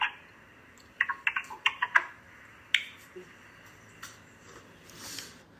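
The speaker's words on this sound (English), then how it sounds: "Just listen to how busy she is typing and not actually listening" Typing on a computer keyboard produces a quick burst of sharp clicks near the start, then scattered single keystrokes, fairly close and quiet over a low background hiss.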